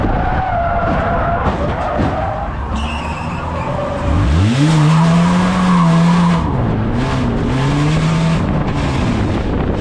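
A stock car at Cowdenbeath Racewall gets wiped out on the inside line by another car, its tyres squealing and skidding loudly under a revving engine, the pitch sweeping up and wavering through the close, chaotic slide.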